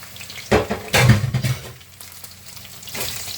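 Garlic and onion hitting hot oil for bihon, a sudden burst of sizzling with spatula scrapes and clinks against the pan, then settling into a quieter fry.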